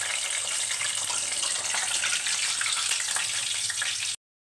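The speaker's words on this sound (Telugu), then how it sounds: "పొడవుగా కట్ చేసుకున్న పచ్చిమిర్చిని కూడా వేసుకొని వేయించుకుందాం" Long-cut green chillies frying in hot oil give a dense, even hiss that holds steady for about four seconds, close and moderately loud, then cuts off abruptly to silence.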